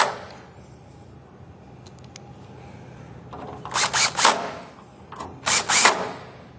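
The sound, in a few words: power drill driving screws to attach furniture feet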